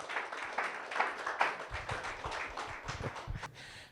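Church congregation applauding for Jesus, a dense patter of clapping from many hands throughout, moderately loud and fading at the end.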